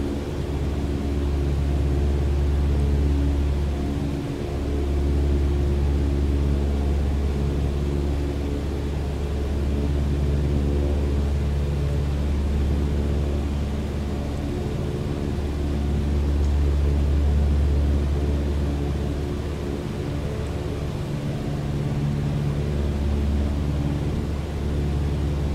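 Light aircraft engine flying a circuit in Microsoft Flight Simulator, a continuous steady drone with strong low hum and harmonics, power eased back near the middle, with no talk over it.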